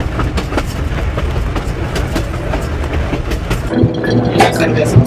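The Orient Express Hiram Bingham train travels from Cusco, Peru, with a loud, steady rumble and rhythmic clickety-clack of the rail cars that grows heavier near the end, while voices talk on board.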